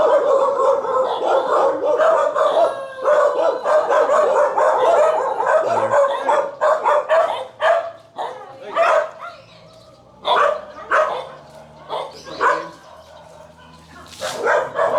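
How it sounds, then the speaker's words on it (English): Dog barking in an outdoor neighbourhood in the Philippines, a series of short sharp barks repeated in bursts over a background of ambient noise and other animal calls, moderately close. "That's a dog."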